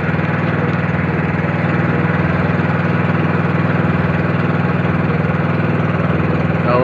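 A large boat's engine drones steadily and loudly at slow cruising speed on the way to Pulo Beach, a continuous close-up rumble with no break and no voices.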